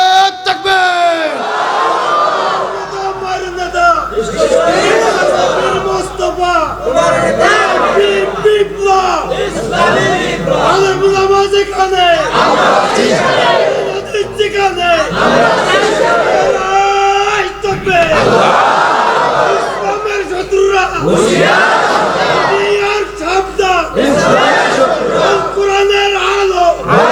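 A large crowd at a religious gathering chants takbir in loud repeated call-and-response waves, a lead voice alternating with massed shouted replies over a low hum, rhythmic and close.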